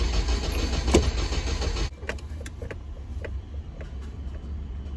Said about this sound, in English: consistent cranking